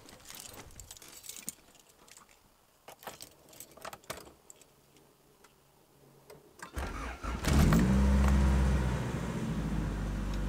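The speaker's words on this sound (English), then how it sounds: "So gonna go give it a crank and see if it starts up." Keys jingle and rattle near the ignition of a car, then the engine cranks briefly and catches, settling into a loud steady idle close by.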